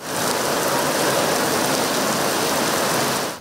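Heavy rain pours down in a dense, continuous hiss during a downpour flooding city streets, loud and steady throughout with no voices.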